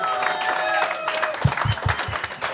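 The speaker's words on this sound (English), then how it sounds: "Big round of applause, everybody!" A crowd applauds on a livestream from the middle of the ocean, a steady wash of clapping throughout, with a voice and some low thumps mixed in toward the end.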